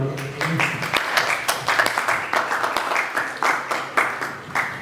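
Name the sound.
audience applause at debate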